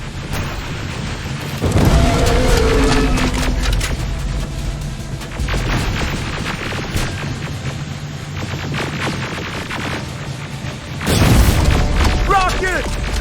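Rocket blasts in the Terminator Resistance video game: deep booming explosions hit loudly around 1.7 seconds and again near 11 seconds over a constant rumbling battle backdrop, while a voice shouts between the blasts.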